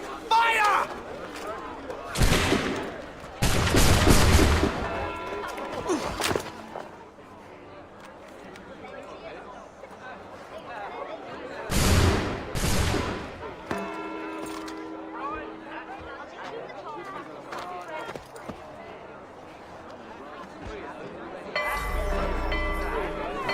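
Loud bursts of musket gunfire from a volley in Assassin's Creed 3, with two strong blasts near the start and another around midway, over a busy battle din with shouting voices.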